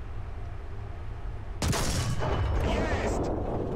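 Gunfire in a video game: a sudden loud report with a booming tail and scattered shots following, breaking in after quiet background ambience.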